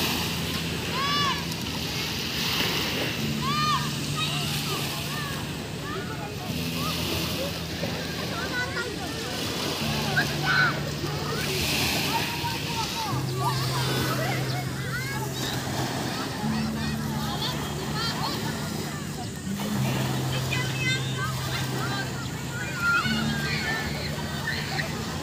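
Seawater sloshing and washing along a beach in Cavite, a steady broadband wash running throughout beneath a strong tonal voice-like or melodic layer.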